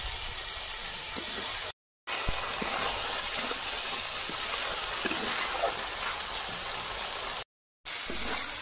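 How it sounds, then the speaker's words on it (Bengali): A steady, loud sizzle of spice paste frying in a pan as a little water is added, with scattered crackles and stirring scrapes and two brief silent gaps. "মশলা তলায় বসে যাচ্ছে, খুব সামান্য জল দিচ্ছি।"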